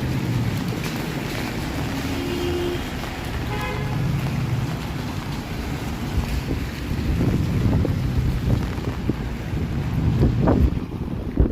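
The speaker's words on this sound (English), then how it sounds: "Wind. We got wind." Wind on a rainy evening in downtown Toronto roars steadily across the microphone in a loud, buffeting rush that swells and gusts throughout, with faint city rumble beneath.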